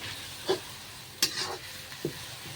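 Faint sizzling of chicken frying with spices in a pan, with a few short bursts of stirring or spitting oil over a quiet hiss.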